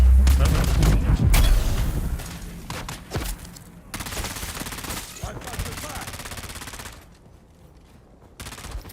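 Rapid automatic gunfire from the Dune Awakening video game, loud overlapping bursts and heavy booms at first, then sparser shots fading to a quieter hum.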